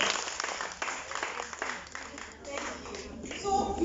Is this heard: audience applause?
yes